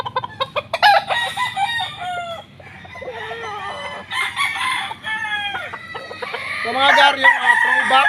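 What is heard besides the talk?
gamefowl roosters crowing and clucking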